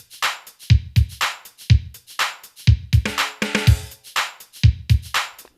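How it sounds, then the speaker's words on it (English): Boss Dr. Rhythm drum machine playing a MIDI-sequenced hip hop beat on kit 66, with punchy kicks, crisp snares and hi-hats at varied velocities in a steady loud groove and no talking. "I'm using kit number 66, hip hop 1, and then the drums sound like this."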